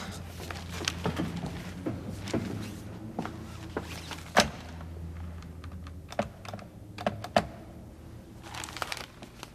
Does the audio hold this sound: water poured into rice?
no